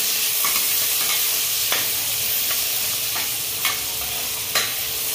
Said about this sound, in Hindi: तब इस देखो मिर्च डाल दिया हमने, प्याज, और थोड़ी देर से चलाते हैं।